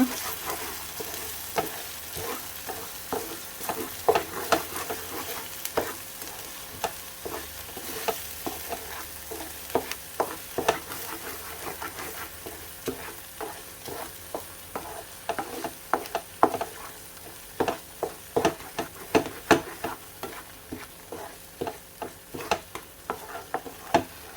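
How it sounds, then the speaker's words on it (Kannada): Tomato gojju cooked without added water sizzles in a pan while a spoon stirs and scrapes it in frequent clacking strokes. The pan sits close, and no one speaks over the steady frying. "ಇದನ್ನು ಈಗ 2 ರಿಂದ 3 ನಿಮಿಷ ಚೆನ್ನಾಗಿ ಫ್ರೈ ಮಾಡಿಕೊಳ್ಳುವ"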